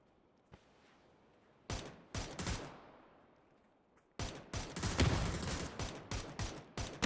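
PUBG match gunfire: a lone faint shot, then clusters of sharp rifle shots, and later rapid, dense bursts of fire repeating loudly through the final seconds, with no talk over them.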